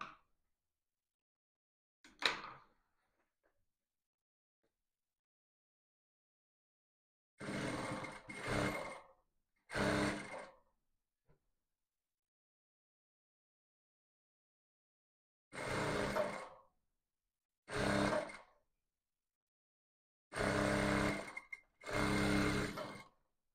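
A sewing machine stitches a seam on a homemade buba top. It runs in several short bursts of motor whir, close by, with quiet pauses between runs and a faint click near the start.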